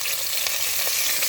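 Sliced onion frying in a pan as the base of a sauce for Nigerian meat pie, a bright steady hiss of hot oil with a few soft stirring knocks, close and uninterrupted by speech.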